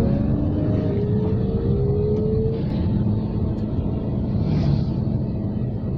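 A car pulls out onto a main road, heard from inside as a steady close engine and road rumble with faint passing traffic and no talking.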